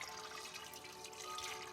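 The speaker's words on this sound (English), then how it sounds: "here we have just 1 cup of our white rum going in" White rum pours from a bottle into a large batch of Halloween punch, a steady close liquid splash lasting a couple of seconds.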